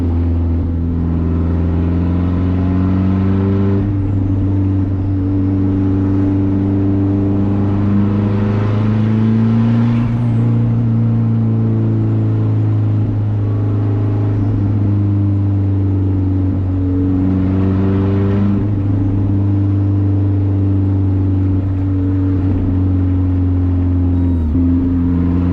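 Straight-piped 2G Mitsubishi Eclipse GSX heard from inside while driving at night, a steady loud droning exhaust rising and falling through gear changes and throttle shifts, with no talking.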